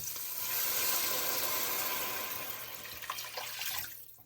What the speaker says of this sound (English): I'm gonna start with 2 cups of water.